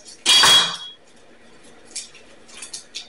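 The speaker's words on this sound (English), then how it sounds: "Cut it in half." A knife slicing through an onion and striking the cutting board: one loud, sharp, bright clack near the start that rings briefly, followed by several faint light taps and clinks, close and otherwise quiet.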